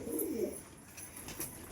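Pigeon hens in a loft coo softly in a low, rolling murmur at the start, then fade into quieter background chirps and rustling.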